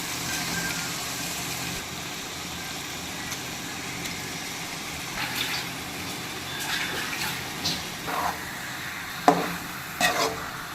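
Chicken with ginger, garlic and tomato is stirred in a pan, giving faint, steady sizzling with a few soft scraping strokes growing more distinct toward the end.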